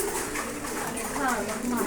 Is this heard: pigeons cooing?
yes